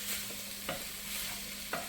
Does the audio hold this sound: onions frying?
yes